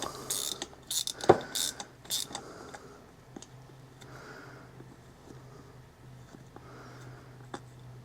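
Ratchet wrench turning a 10 mm nut on a P-Pump AFC, several quick clicking ratchet bursts up close at first, then quieter handling noises with a faint hum underneath.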